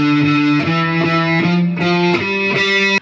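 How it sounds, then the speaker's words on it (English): A distorted electric guitar is double picked slowly, each note struck twice in a row before stepping to the next, with bright sustained tones and a steady, even rhythm, loud and close with no talk. "It's where you hit a note twice in a row before you go on to the next note."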